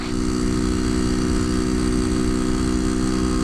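A fifty-year-old Honda C90 motorcycle engine running flat out at about 45 mph, a steady loud buzzing drone with wind rush, held constant and close throughout with no talk.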